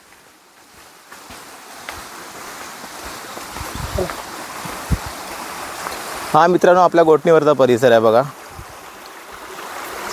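A rain-swollen river in a Konkan village near Dapoli after heavy rain, heard as a steady broadband rush of flowing water beneath someone speaking.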